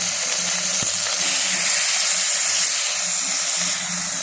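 Mutton sautéing with onion and ginger paste in a hot pan gives a steady close-up sizzling hiss, with a faint clunk of stirring early on and no talking.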